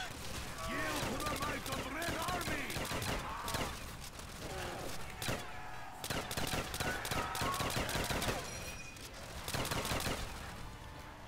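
Rapid, loud bursts of Thompson submachine-gun fire rattle almost continuously in a custom zombies video game set on a pirate ship, with short gaps between strings of shots and game sounds layered throughout.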